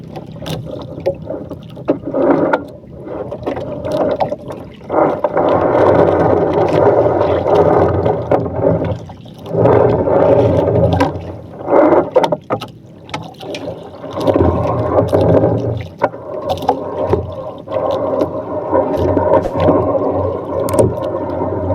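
Fishermen haul a fishing net aboard a boat on the Camiguin Sea, with rhythmic bursts of creaking, clattering gear and splashing water broken by short pauses, close and fairly loud.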